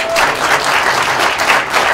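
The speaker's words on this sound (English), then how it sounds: "Give them a massive round of applause, everybody." An audience claps loudly and continuously at a live show, a dense wash of applause with no pauses.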